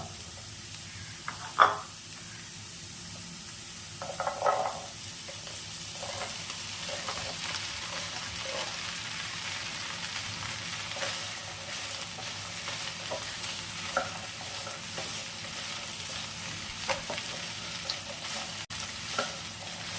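Okra fries with potatoes in a pan over medium flame, a continuous near sizzle with occasional stirring clatters and scrapes throughout, no voices.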